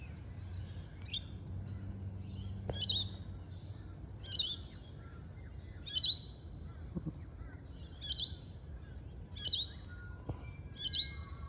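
Birds sing outdoors, repeating a short bright chirping phrase roughly every one to two seconds, moderately near, over a soft steady background hum with a few faint clicks.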